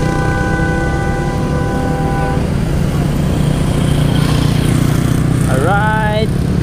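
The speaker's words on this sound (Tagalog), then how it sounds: "Ayun yung motor natin." A motorcycle engine hums steadily and loudly at close range through a group fun ride gathering, with a rising pitch sweep near the end as the throttle opens, and voices talking in the background.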